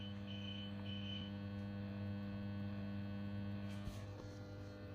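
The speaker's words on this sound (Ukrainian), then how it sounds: "Чуєте? Як риве насос." A steady electrical hum drones continuously from a gas boiler's pump running on an APC 500 UPS, even and unbroken throughout, fairly faint and close, with no talking.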